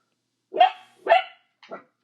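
A dog barks close by: two strong barks about half a second apart, then a shorter, softer third bark, with silence around them and no talking.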